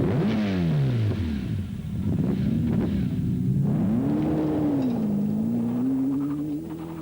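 A TVR sports car engine fires up and revs, its loud, close rumble rising and falling through several throttle blips before settling into a steady, rising drone.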